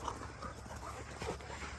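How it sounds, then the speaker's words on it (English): Several farm dogs pant and whimper close by at ground level, a steady low snuffling breath with a few soft whines over light outdoor background noise. "I'm going to have dogs at my feet here for a minute."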